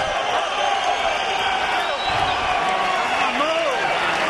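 Boxing fans in the arena cheer for Juan Manuel Marquez after his fight with Rocky Juarez, a continuous crowd roar and scattered clapping lying beneath steady commentary.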